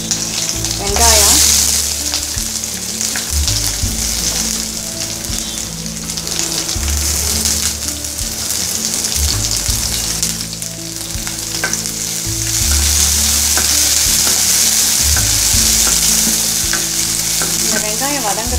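Onions with curry leaves, green chilies, cloves and a bay leaf fry in hot oil in a pan for kurma, giving a loud, steady sizzle broken by stirring scrapes and a low rumble.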